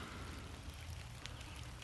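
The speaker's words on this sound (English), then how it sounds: "it's raining out pretty good" Rain falls steadily outdoors near beehives, a faint continuous hiss of drops with a few slightly sharper patters, no voices.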